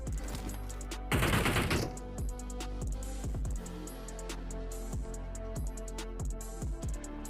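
Gunfire in the battle-royale game PUBG comes from nearby buildings as rapid, continuous automatic bursts of sharp cracks, with one louder blast early on and no speech.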